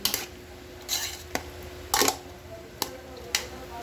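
Young coconut salad with fruit cocktail is stirred in a bowl, giving several sharp clinks and scrapes of a utensil against the dish, spaced irregularly and fairly close.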